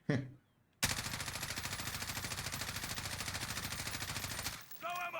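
An M4A1 rifle in a video game fires one long sustained full-auto burst at a wall, rapid evenly spaced shots loud and close, with brief talk before and after.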